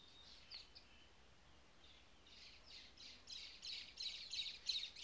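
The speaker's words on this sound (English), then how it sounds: "Lots of birds." Birds chirping outdoors, a run of short repeated tweets that grows louder and busier toward the end, fairly close.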